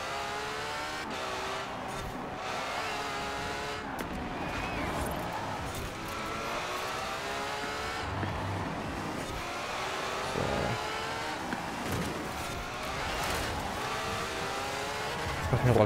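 Fast race car in Forza Horizon 4, its engine revving and shifting continuously while tires squeal through corners, loud and sustained throughout with a brief rising burst at the end.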